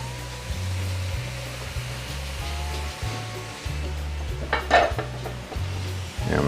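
Pork sizzles hard in a hot pan during a broccoli stir-fry, a dense steady crackle running the whole time over a pulsing low hum, with a brief scrape of stirring midway and no voices.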